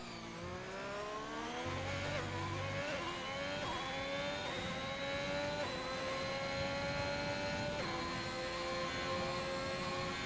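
An Alfa Romeo Formula 1 car in a racing video game closes out a lap, its engine whining high and steady through rising revs and brief gear-shift dips, loud and continuous with no speech.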